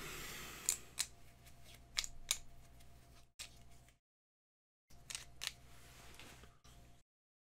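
Maracaibo board game cards are shuffled during solo setup: several bursts of crisp, papery riffling come in quick clusters with a short silent gap between two rounds.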